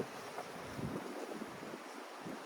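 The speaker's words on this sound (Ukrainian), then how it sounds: "Вітер жах який." Heavy wind buffets the microphone, a rough roaring rumble with low, gusty thumps that rise and fall throughout, outdoors beside a 2013 Opel Vivaro van.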